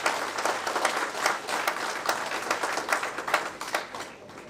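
Audience applause welcoming Professor Lalji Prasad at a college seminar in Patna, a steady patter of many hands clapping at moderate distance, fading slightly toward the end.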